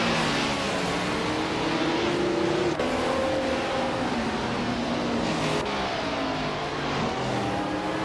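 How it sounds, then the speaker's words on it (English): A 1977 Porsche 936 race car in a racing video game: a steady, loud engine drone with rising and falling revs and gear changes, continuous throughout with no speech. "Gary 710 is driving a Porsche 936 from 1977."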